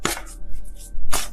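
A thick deck of tarot cards is shuffled by hand in two quick, loud, crisp riffles up close, separated by softer rustling, with no talking.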